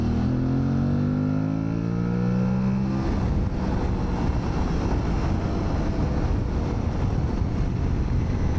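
An Aprilia Tuareg Rally motorcycle engine, first a rising tone as it revs up, then a loud, continuous rumble with wind roar as the bike rides on, steady and close, with no voices.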